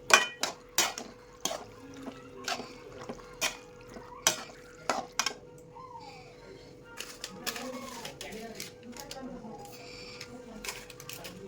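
Italian pasta is sautéed with pizza oregano in a pan, with a steady run of sharp clacks and scrapes of a spoon against the pan over a faint sizzle, under quiet talk.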